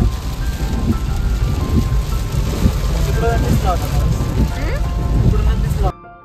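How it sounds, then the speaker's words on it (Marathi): Heavy monsoon rain pounds down at Tamhini Ghat as a loud, dense, unbroken roar of drumming drops. Faint voices sit beneath it before the sound cuts off abruptly near the end. "आता आम्ही ताम्हिणी घाटामध्ये पोहोचू आणि खूप जास्त पाऊस आहे, खूप जास्त."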